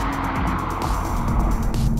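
A 2023 Toyota Supra's 3-liter turbocharged engine pulls hard under acceleration, a loud, continuous roar with a steady rising drone and no one talking.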